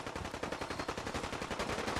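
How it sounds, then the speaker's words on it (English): Rapid automatic gunfire in Fallout 4 rattles on in a fast, even stream of shots, moderately loud and slightly distant, with no voices over it. "I'm hearing shooting in this direction too"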